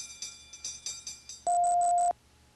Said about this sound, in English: this is the sound the bell makes